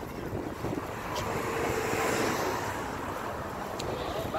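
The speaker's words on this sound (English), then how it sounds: "It's a little windy today" Steady wind roars across the beach near Santa Monica Pier, a broad, constant rush over distant surf, loud and unbroken with no voices.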